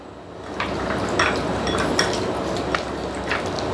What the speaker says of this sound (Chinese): 咁嚟咁撈撈撈去大概一分鐘到嘅時間咧